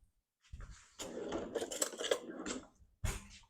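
Metal spoon scraping and clinking against a hot pan while serving pork sausage stuffed bell peppers onto plates, several close scrapes and clatters in a short burst with brief pauses between.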